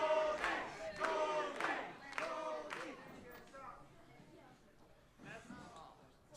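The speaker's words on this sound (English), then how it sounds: "Crowd certainly getting behind Goldy here" A wrestling arena crowd chants a wrestler's name in a steady rhythmic cadence, loud and massed at first, then thinning into general crowd noise with scattered shouts.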